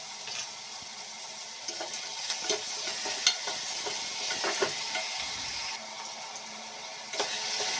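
Onions frying in a pan for a mutton curry while being stirred: a moderate, continuous sizzle with scattered knocks and scrapes of the spoon, one brief lull near the middle, and no talking.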